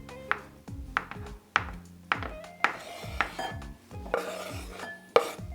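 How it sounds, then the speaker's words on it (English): A knife chops sponge cake into little cubes on a board, giving about nine crisp, evenly spaced knocks. The knocks are close and clear over a low background hum, with no talking. "Just chop little pieces like this"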